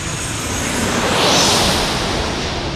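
Alaska Airlines airliner at San Diego airport, a broad steady roar that swells toward the middle and eases off, loud and close with no voices.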